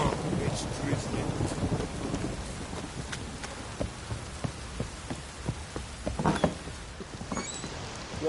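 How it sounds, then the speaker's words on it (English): Heavy rain pours steadily in the video game The Witcher 3, a continuous hiss with scattered drips and taps, while low rumbles of thunder roll faintly in the background. "You'll stay in the castle with it pouring like this."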